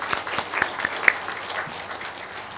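A church congregation at a Sunday worship service breaks into steady applause, a dense, even patter of many hands clapping close by for a couple of seconds.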